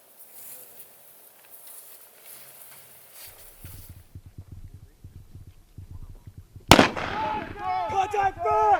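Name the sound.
WWII small arms live fire gunshots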